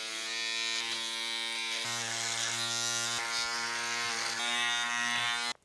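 An electric shaver buzzes steadily and close during a shave, a loud continuous hum with slight shifts in pitch as it moves, then cuts off at the end; no one speaks.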